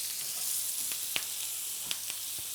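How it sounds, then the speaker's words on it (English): Steak sizzling in a pan with thyme and rosemary, a steady close frying hiss with a few sharp pops from the herbs. "also making the thyme and the rosemary just pop, and you can hear it popping"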